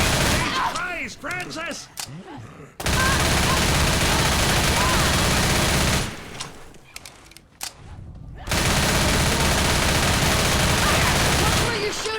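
Gunfire in the zombie shooter Left 4 Dead: long bursts of loud, rapid shooting fill most of the stretch, broken by a short lull, with character voices shouting over the shots.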